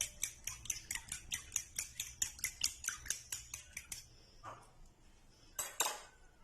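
A utensil clinks quickly and regularly against a bowl as vinegar, soy sauce and chili sauce are mixed together. About fifteen crisp taps come over four seconds, followed by a couple of softer scrapes and knocks, close and fairly quiet.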